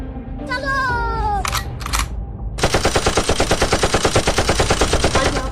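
In a cartoon, a rapid machine gun burst rattles loudly and continuously after a few seconds of cartoonish squeaky vocal sounds and short effects.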